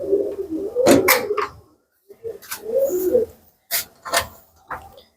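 A giribaz tumbler pigeon brooding its eggs coos in close, repeated throaty bursts, several soft rolling calls in a row with brief pauses, alone without talk.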